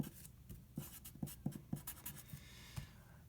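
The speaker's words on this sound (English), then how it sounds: "So let's write that down." A pen scratches out a measurement on paper during a gas laws lesson, giving quiet, close, uneven taps and short strokes across a few seconds, with no talk.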